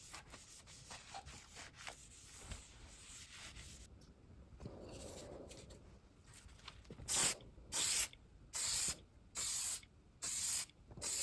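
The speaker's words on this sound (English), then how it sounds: "and then spray it with shellac" Shellac sprayed from an aerosol can onto a refurbished wooden chair comes in several evenly spaced, loud hissing bursts, each lasting about half a second, preceded by quieter rubbing and handling sounds.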